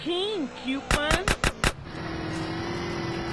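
A quick burst of about five loud, evenly spaced gunshots from GTA: San Andreas, following a moment of voiced game audio and fading into a steady vehicle-like drone.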